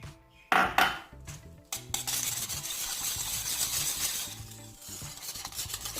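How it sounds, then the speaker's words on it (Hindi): Milk, eggs and besan are whisked into a batter in a bowl, making soft clinks and a continuous wet swishing after a few separate knocks at the start. "दूध, अंडे और बेसन को मैंने अच्छे से मिक्स कर लिया।"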